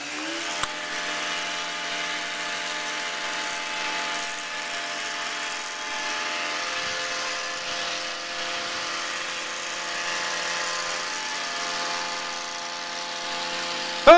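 A hedge trimmer buzzes steadily at a constant pitch while cutting a hedge, a continuous mid-level motor whine heard alone.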